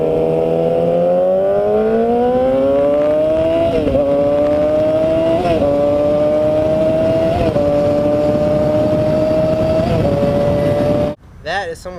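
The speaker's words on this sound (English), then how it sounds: "someone shifting up and flying like awesomeness" A motorcycle accelerates hard, its engine rising in pitch and then stepping through several upshifts in a loud, close, sustained whine before abruptly cutting off at the end.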